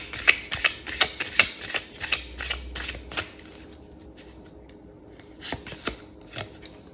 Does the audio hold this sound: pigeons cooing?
no